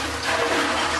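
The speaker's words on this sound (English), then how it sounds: "the water comes in, it drops into the hole, and then we pick it up and lift it with the use of the wind" Water churning and gushing steadily, lifted from about five feet down by an agricultural drainage windmill pump, a continuous close rushing flow with no talk.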